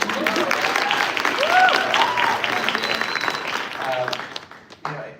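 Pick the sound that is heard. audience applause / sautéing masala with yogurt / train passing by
audience applause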